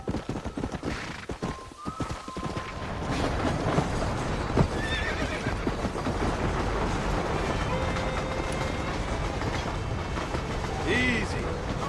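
A horse in Red Dead Redemption gallops with steady clip-clop hoofbeats and whinnies briefly, running loud and continuous over ambient game sounds, with a voice speaking near the start.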